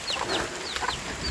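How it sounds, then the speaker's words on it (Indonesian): Bangkok breed chickens cluck and chirp in short repeated calls over a steady wash of rain noise outdoors in the evening, moderately close. "Tuh, ayam bibit-bibit Bangkok teman-teman."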